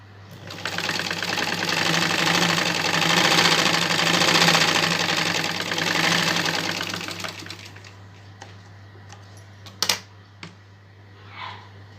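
A sewing machine runs steadily for about seven seconds while stitching a plain seam with a double top stitch, then stops; a few faint clicks and handling noises follow, with no talk.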